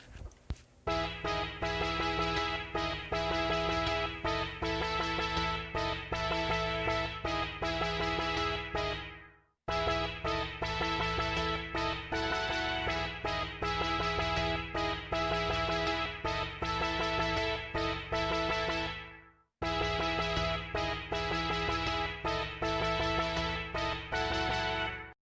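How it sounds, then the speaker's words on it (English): A Firebird harp synth patch mixed with an analog synthesizer patch plays three dense, shimmering sustained phrases. Each phrase cuts off abruptly, and the sound is bright and layered with no voices. "The Firebird one got mixed with another patch from the analog synthesizer"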